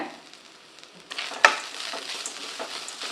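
Grated coconut stir-fried in a pan for coconut rice, with a soft, steady sizzle that jumps louder partway through, one sharp scrape or clink of the spoon, then continued frying and stirring.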